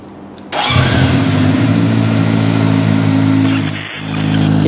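A CFMOTO 500SR sport motorcycle with dual exhaust starts up outdoors and settles into a loud, steady idle, its low rumble continuous and close, with a brief dip before it holds again.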